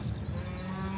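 Dozens of cattle lowing on a farm, a dense, continuous chorus of low moos overlapping close by with steady loudness and no talk.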